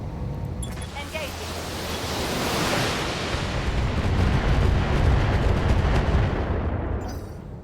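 Artillery bombardment in a BattleTech game: a sustained, roaring wash of explosions and rumble that swells in the middle and fades near the end, with no talk over it.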